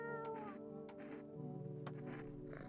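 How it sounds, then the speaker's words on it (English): A cat in the video game No, I'm Not a Human meows several times while being petted, with short close mews over soft background music, faint and alone. "But first, we pet the cat."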